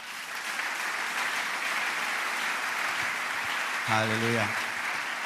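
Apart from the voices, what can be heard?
church congregation applauding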